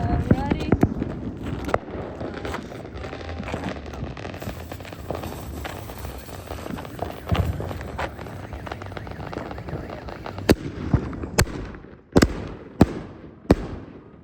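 Fireworks set off outdoors crackle and pop continuously, then finish with several sharp, loud bangs close by, while people talk and react throughout.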